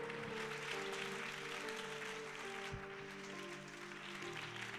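A church congregation claps through the whole stretch in a steady, fairly distant wash of applause, with sustained musical tones underneath and no clear pauses.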